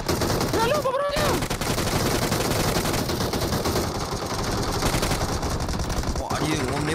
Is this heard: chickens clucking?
no